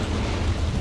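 A deep, roaring blast from the Deadpool video game, loud and dense, filling the whole brief moment without any voices.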